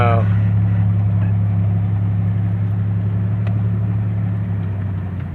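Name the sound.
Pontiac Grand Am with swapped 3800 supercharged engine making noise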